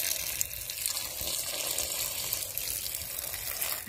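Water poured off soaked odiyal flour as it is strained while preparing Jaffna kool, a steady close trickle and gush of liquid running continuously with no talking.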